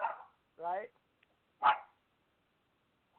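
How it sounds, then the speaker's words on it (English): A small dog named Coco gives a few separate barks and yips indoors, spaced irregularly with silence between them, fairly close but moderate in volume. "My dog wanted to say hi"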